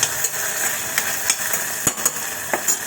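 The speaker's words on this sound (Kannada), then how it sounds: "ಭಾಳ ಮೆತ್ತಗಾಗೋ ತನಕ ಫ್ರೈ ಮಾಡಬೇಕು." Chopped tomatoes frying in a pan for a chana dal and spinach palya: a continuous bright sizzle with the clicks and scrapes of stirring scattered throughout, close up and with no talking.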